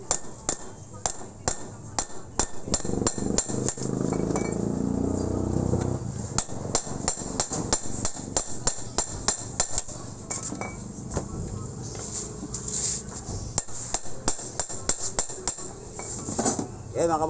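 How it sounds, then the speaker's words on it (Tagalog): Repeated sharp metal hammer strikes while riveting a clutch housing on a Barako 175 motorcycle, close and loud, in uneven bursts of rapid blows with brief pauses, with light metallic clinks between. "natapos na natin i-rivet yung clutch housing"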